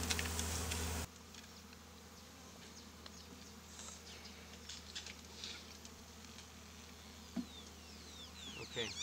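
Honey bees buzz faintly in scattered passes during removal of a hive from a Squire master planter, with small taps and rustles and a brief loud burst at the start.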